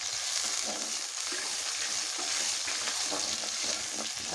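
Onions fry in a pan with a steady close sizzle and crackle, punctuated by light scraping stirs, with no talk.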